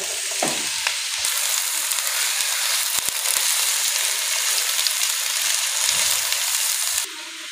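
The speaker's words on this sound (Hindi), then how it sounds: "घी और प्याज जो है वो ब्राउन करके हम सबसे पहले निकाल लेंगे" Onions sizzle in hot ghee in a village kitchen, a loud, steady crackling hiss with occasional stirring scrapes, running for about seven seconds before it suddenly drops away.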